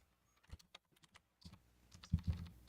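Computer keyboard typing, a scattering of light key taps that grows into a few louder, closer clacks near the end, heard alone with no talk.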